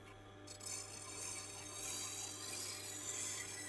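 A ceramic knife edge is sharpened on a Tormek 4000 grit stone, a continuous close scraping hiss of blade on wet stone that grows slightly louder partway through, with no talking.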